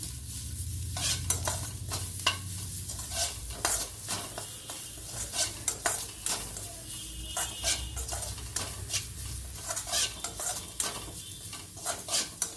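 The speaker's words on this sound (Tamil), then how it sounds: "நெக்ஸ்ட் வந்து தேங்காவையும் லேசாக வதக்கிக்கலாம். ரொம்ப வறுக்க வேண்டாம், கொஞ்சமாக வறுத்துண்டா போதும்." Grated coconut being lightly sautéed in a pan while preparing an Udupi-style bitter gourd gosthu, with soft sizzling under repeated scraping and stirring strokes of a spoon against the pan, fairly quiet and close.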